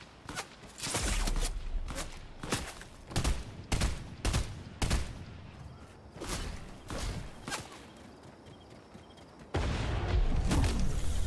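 Fortnite gunfire rings out as repeated sharp, loud shots in quick bursts, nearly a full magazine fired at a shield. Short pauses separate the volleys, and a denser stretch of shooting closes the sequence.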